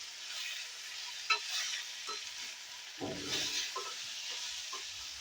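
Beans frying in a pan with spices and curry leaves for fried rice, a soft continuous sizzle broken by a few quiet stirring scrapes and clinks, close by and without speech.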